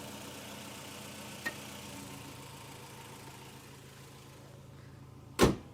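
A 2000 Honda Civic Type R EK9 engine idles with a low, steady hum, then a single sharp click or thump near the end as it is switched off.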